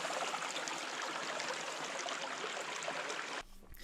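Creek water on a coastal hiking trail, a steady close rushing and trickling flow that runs continuously, then drops away abruptly near the end.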